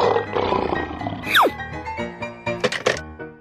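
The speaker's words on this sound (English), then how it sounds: "Lion." A lion gives a loud, brief roar mixed with grunting in a cartoon-style animal game, accompanied by a quick sliding whistle and a few clunking effects.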